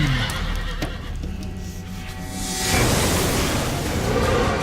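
Ruin, the oversized, powerful horse from the video game Darksiders, lets out a loud close whinny, followed by a rising rush of noise like hooves or wind.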